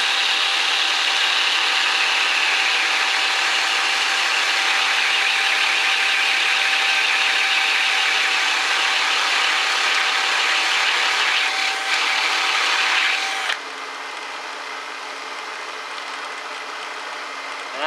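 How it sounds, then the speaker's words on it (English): A power drill whirs loudly and steadily at full speed while cleaning rust off screwdriver and spade bits, with a gritty scraping edge, then its pitch drops as it keeps spinning near the end. "I just go full bore with the drill."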